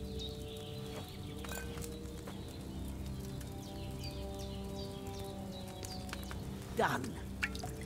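A brew being poured into a cauldron during alchemy in Kingdom Come Deliverance 2: a short liquid splash near the end over steady game ambience, with a voice talking.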